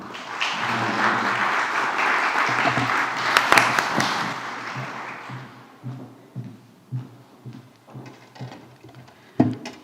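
Audience applause at a book presentation in a state congress, loud sustained clapping for about four seconds that thins into scattered claps and taps as the crowd settles.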